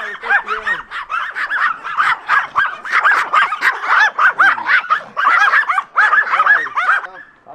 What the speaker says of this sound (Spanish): Un ladrido de esos perros, tú los juntas, no haces un ladrido.